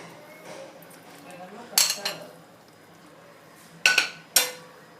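Vegetables, potato and capsicum being stirred in a pan for a mixed veg tawa fry, with a few sharp utensil clinks against the pan in two brief clusters over a quiet kitchen background.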